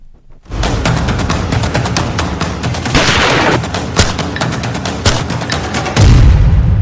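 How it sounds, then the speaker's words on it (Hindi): Rapid gunfire in a Delhi gang-war news report crackles as dense, loud bursts of shots and booms, sustained for several seconds with a heavier thump near the end. "ताबड़तोड़ फायरिंग से थर्राई दिल्ली।"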